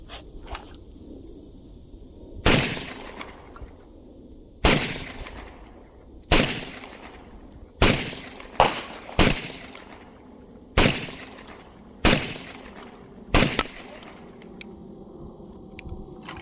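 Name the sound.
Beretta 1301 Tactical Mod 2 shotgun firing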